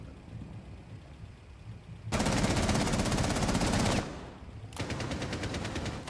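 Automatic gunfire from Rainbow Six Siege, a loud sustained burst of rapid shots followed by a pause and then a second shorter burst, set against quieter game ambience.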